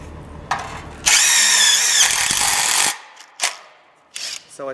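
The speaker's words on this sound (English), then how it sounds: "So it's that easy to screw with these Barbecue Coach screws" A power drill drives self-tapping screws through steel hidden bar supports for a roof overhang: a loud, steady whirring burst of about two seconds, followed by short clicks and knocks of handling.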